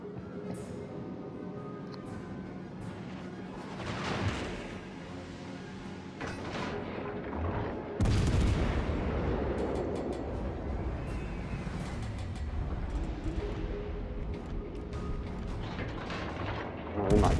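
Heavy naval gunfire in World of Warships: Legends, with booming salvos around four and eight seconds and rumbling impacts between them, all set against a steady engine-like drone.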